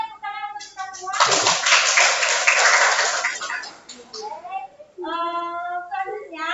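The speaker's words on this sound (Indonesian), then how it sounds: "tepuk tangan untuk kita semua" A group of children in a grade 9 Indonesian-language class claps together in a dense burst lasting about three seconds, with young voices talking before and after.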